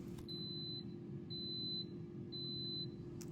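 Three steady high-pitched electronic beeps from an air fryer finishing its program sound at even intervals over a constant low appliance hum.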